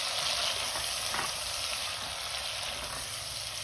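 Two large tomatoes sizzling and frying in a pan with garlic paste for a spicy potato and eggplant curry, a steady broadband hiss that stays even and fairly loud throughout, with no talking.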